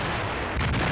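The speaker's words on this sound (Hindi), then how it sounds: "बैटल ग्राउंड से आया टैंक के धमाके का वीडियो" Explosion as a Russian T-80 tank strikes a Ukrainian landmine on a battlefield, a loud dense blast with rumbling low energy that swells and roars on for the full second.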